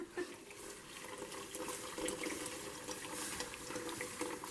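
Coconut milk and other liquid pour steadily into a soup pot with a soft, continuous watery splash, close but fairly quiet.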